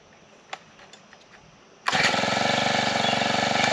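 Near silence with a few faint clicks, then a new four-stroke garden tiller engine suddenly fires up and keeps running loudly with a steady, throbbing chug.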